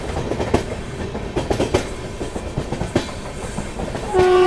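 Tejas Express train on the Konkan Railway, leaving Roha, with loud continuous rolling rumble and irregular clanks and thumps of the wagons, then a steady tonal horn-like whine rising near the end.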